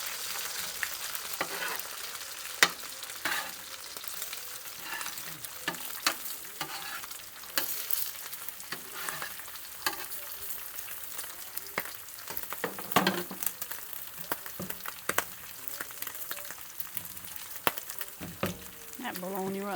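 Bologna fries on a temperamental stove, giving a continuous close sizzle broken by frequent clicks and scrapes of stirring and turning, with no talking.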